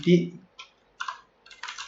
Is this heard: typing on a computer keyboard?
yes